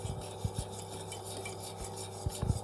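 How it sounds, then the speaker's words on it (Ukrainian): Milk being stirred with a spoon in a saucepan on a stove over medium heat, a quiet continuous scraping and rubbing with a few soft knocks of the spoon against the pan. "і розмішую, весь час помішую до закипання"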